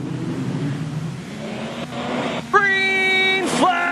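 Production sedans race at Carina Speedway, a rumbling pack of engines that builds to a rising whine of revving cars passing close, heard under an announcer's commentary.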